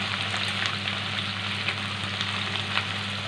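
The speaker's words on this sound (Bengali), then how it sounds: "অল্প ভাজার পরেই একটু নেড়েই আমি এখানে টমেটোটা অ্যাড করে দিচ্ছি" Chicken frying in a pan with tomato just added, a steady, close sizzle of hot oil with faint stirring clicks, and no voices.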